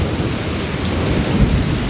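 Heavy rain pours steadily and close in Dubai, a dense continuous hiss with low rumbling underneath, no voices.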